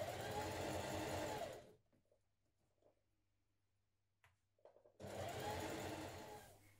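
A sewing machine runs a stretch stitch along a 1 cm seam of a wrap dress in two close, fairly quiet bursts, separated by a pause with faint handling sounds.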